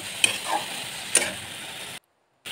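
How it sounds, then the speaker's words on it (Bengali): Vegetables sauté with ground chili paste in a pan as they are stirred, making a soft continuous sizzle marked by two sharp spatula clicks before the sound cuts out briefly. "ভালো করে নাড়িয়ে চাড়িয়ে নিয়ে সবজিটা ভালো করে কষিয়ে নেব।"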